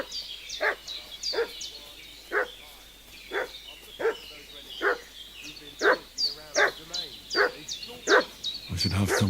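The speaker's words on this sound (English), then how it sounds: "What's that dog making such a fuss about?" A dog in the video game Kingdom Come: Deliverance II barks repeatedly in sharp, evenly spaced yelps, fairly close and loud, with some whimpering between barks.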